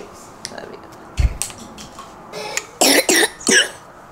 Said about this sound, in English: Let me see how you cover your mouth when you cough.